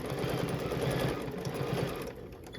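A Bernina sewing machine fitted with a stitch regulator runs steadily, stitching through a quilt in a fast, even mechanical rhythm that eases off near the end.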